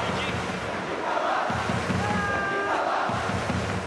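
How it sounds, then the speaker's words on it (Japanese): A large video game baseball crowd in Power Pro 2016 roars and cheers continuously in the distance, a steady wash of noise with swelling chants rising and falling. "大きな声援が届いています。"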